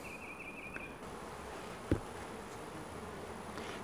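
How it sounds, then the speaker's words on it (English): Carpenter bees buzz around an open beehive outdoors, a faint, steady hum with an occasional soft tap, heard close and alone. "Go away, carpenter bee."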